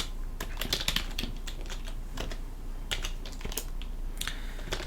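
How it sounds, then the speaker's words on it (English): Keys on a computer keyboard click in short irregular bursts as commands are typed into a Linux terminal, light and close with pauses between flurries. "I'm just typing ls for you guys to see"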